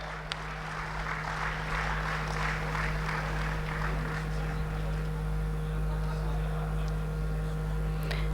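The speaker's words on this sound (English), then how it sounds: "Please give him a big round of applause." An audience claps at a national conference in a grand hall, a faint, steady patter of applause spread across the room under a constant low electrical hum.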